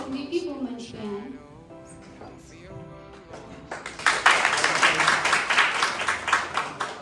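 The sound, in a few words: audience clapping at a hospital celebration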